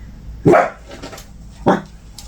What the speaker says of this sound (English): And now the dog starts.